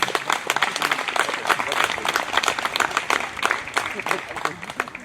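A crowd at an outdoor carriage-driving prize ceremony in Sainte-Euphémie claps steadily and loudly, with individual claps standing out in the dense applause; voices murmur faintly beneath it.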